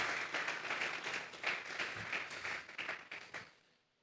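Church congregation clapping in praise during a worship service, a dense wash of hand claps filling the room for about three and a half seconds before quickly fading out.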